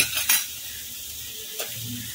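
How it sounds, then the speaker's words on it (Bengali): Poppy-seed posto with ground nut paste, cooked in a pan in Bengali ghoti style with pointed gourd, is stirred under a soft, steady sizzle, with two brief scraping strokes of the spoon standing out. "এটা দিয়ে একটুখানি নেড়ে নিচ্ছি"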